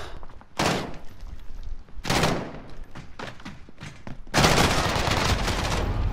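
P90 gunfire in a one-on-one video game match: three loud bursts of rapid automatic fire, the last one long and sustained, with quieter scattered shots in between.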